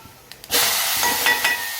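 Cumin seeds and asafoetida hit hot oil after a couple of faint taps, bursting into a loud, steady sizzle that holds with small crackling surges.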